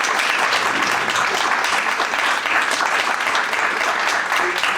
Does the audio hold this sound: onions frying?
no